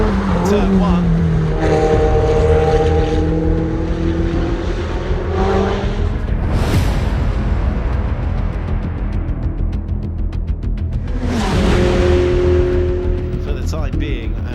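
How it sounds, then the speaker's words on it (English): Racing cars roar past through a corner, engines rising and falling in pitch as they pass, with commentary voices running over the engine noise. "Cars make their way through turn 1."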